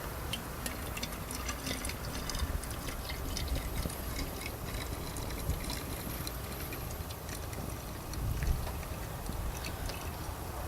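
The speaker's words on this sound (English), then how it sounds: "you can put the extra right back in your canteen" Leftover water is poured back into a canteen as a soft, steady fill with faint gurgling, heard close and quiet against outdoor background noise.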